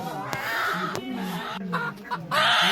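A live chicken being held for slaughter clucks and squawks in agitated bursts, close and fairly loud, with a couple of sharp thumps and rustling handling noise in between.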